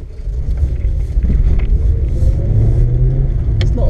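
A Mongol Rally car at full throttle, a loud, close engine rumble building steadily with rising drone and road noise over several seconds.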